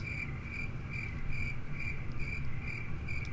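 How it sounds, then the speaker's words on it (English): Crickets chirp in a steady, evenly spaced pulsing trill over a low background rumble, a short sound-effect bed with no voices. "crickets."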